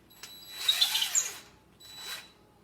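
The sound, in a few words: power drill driving screws into wooden ledger board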